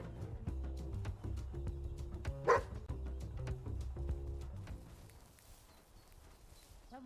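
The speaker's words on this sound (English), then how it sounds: "I hear the dog, but I don't see the dog." Repeated dog barks from a video game, layered over a low rhythmic background score, with a sharper burst midway before the music thins out.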